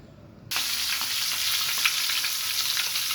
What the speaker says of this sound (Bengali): এখন সুন্দর করে একটু বেশি করে ভেজে নেব।